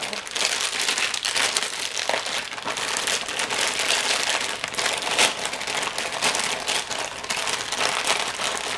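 Continuous crinkling of a thin plastic bag being pressed and squashed flat, a dense crackling texture close to the mic.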